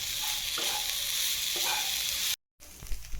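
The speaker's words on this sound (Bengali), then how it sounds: "এরপরে অ্যাড করছি গুড়। এটার সাথে আমরা ভালো করে নাড়াচাড়া করব।" Grated coconut and jaggery are stirred in a pan for a patishapta filling. A quiet sizzle runs under a few soft scrapes, then a brief silent cut, and the sizzling resumes.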